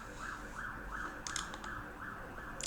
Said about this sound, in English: Don't know if you guys can hear that siren, but we actually live next to a fire station